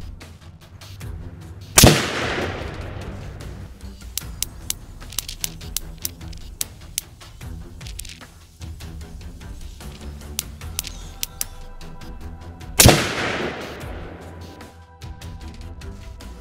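A 10.5-inch PSA AR pistol with a red dot fires 60 grain VMAX loads for test groups, two sharp loud single shots about eleven seconds apart over steady background noise, with faint clicks between them.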